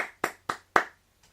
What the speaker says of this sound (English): Spare me your pity clap